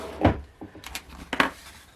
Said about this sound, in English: Put that back in the drawer.